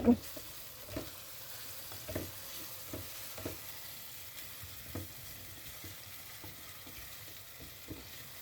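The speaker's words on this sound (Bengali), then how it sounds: "পেঁয়াজটা তেলের মধ্যে দিয়ে দিয়েছি" Chopped onion frying in hot oil, with a steady soft sizzle and periodic scraping knocks from stirring, moderately faint and without talk.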